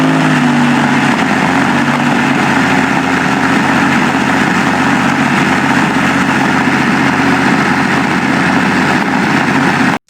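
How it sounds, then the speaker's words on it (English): A Rolls-Royce Merlin V12 aero engine fitted to the Handley Special, a British pre-war-style Rolls-Royce chassis car, idles loud and close with a steady, dense low rumble held throughout, no voices. "The Handley Special is a British Rolls-Royce chassis monster fitted with a Rolls-Royce Merlin V12"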